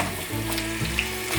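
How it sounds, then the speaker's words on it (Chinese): Tomatoes stir-frying in hot olive oil make a dense, continuous sizzle, loud and close, across a short stretch with no talking. "放入番茄， 先把番茄炒软"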